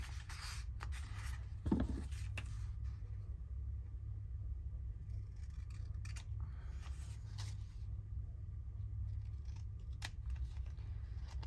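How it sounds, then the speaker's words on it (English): Scissors snip paper while trimming white edges from handmade French Rococo journal cards, a few quiet, sparse cuts at close range over a low background rumble. "Just trimming off the white, and I'm going to snip that."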